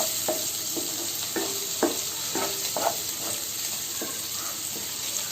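Fenugreek leaf curry (menthya palya) cooks in a pan with a steady sizzle, broken by several scraping stirs of a utensil against the pan, fairly close and with no talking.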